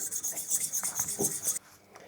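Steel blade stroked back and forth on a medium oil stone, a steady rhythmic rasping scrape repeating about eight times close up, then stopping abruptly.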